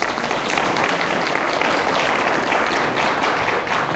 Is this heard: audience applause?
yes